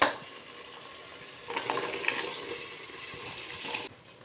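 Dondey being stirred into fried tomatoes in a pan for a Hyderabadi chana dal salan, a continuous moist scraping and sizzling that swells midway and then cuts off.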